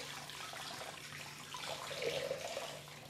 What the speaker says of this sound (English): So we need more liquid, and that's a bunch of water.